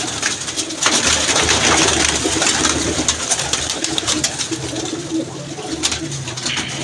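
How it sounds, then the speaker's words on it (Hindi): Pigeons coo in repeated low, throaty phrases close by, with other bird calls and faint background noise. "एक कबूतर"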